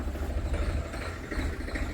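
A tractor engine idles with a steady low rumble and faint clatter, continuous and fairly close, with no voices.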